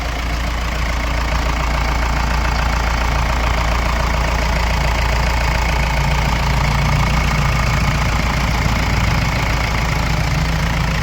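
A second-hand commercial vehicle's engine idles steadily and loudly up close, a continuous low rumble with fine knocking texture and no speech.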